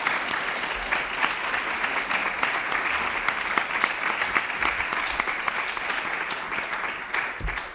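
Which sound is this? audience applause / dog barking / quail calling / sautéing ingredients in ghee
audience applause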